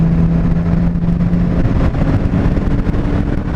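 A 2018 Honda Gold Wing bagger pulls hard in fifth gear, its steady low engine drone thick and close under heavy, constant wind rush, with a brief humming tone riding on top early before easing into the roar.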